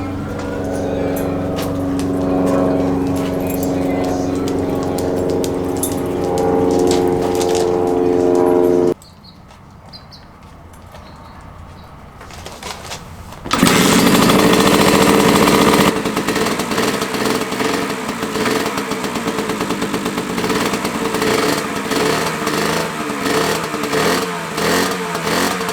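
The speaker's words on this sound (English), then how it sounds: "we're gonna go ahead and put some gas in there and try starting it up" A rebuilt 1982 Honda MB5 70cc two-stroke motorcycle engine runs loud and close with a buzzy, uneven idle, cuts out briefly, then restarts and revs harder with a fluttering, burbling exhaust.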